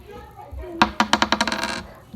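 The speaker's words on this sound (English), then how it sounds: "Let's roll the dice." Dice are rolled during a kindergarten math game, with a quick rattling run of hard clicks that bounce and settle within about a second, close and clear.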